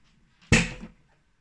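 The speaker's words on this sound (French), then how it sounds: "il y a un problème qui fait que le siège se débloque très brusquement" A gaming chair seat in a home studio releases abruptly from its locked recline, a single sharp thump followed by a short rattling decay, loud and close against near silence.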